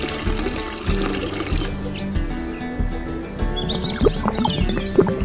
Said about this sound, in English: Step two, pour it into this pipe on the truck,